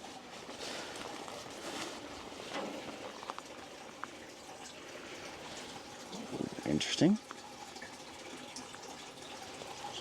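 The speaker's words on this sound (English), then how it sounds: "Some water's running in there." Faint water running inside a boarded-up abandoned log cabin near the Tetons, a soft steady wash heard from a distance, with a person speaking briefly over it.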